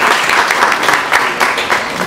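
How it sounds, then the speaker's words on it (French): An audience at a ceremony in Thiès marking a donation of medical equipment to a health centre claps loudly and steadily, many hands forming a dense, continuous applause throughout. "il mérite un très très grand applaudissement de votre part"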